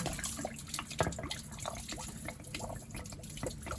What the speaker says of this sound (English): You're going to lose a little bit of coolant on that, you probably can hear it